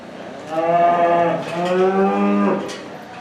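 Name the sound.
heifer mooing at a 4-H cattle show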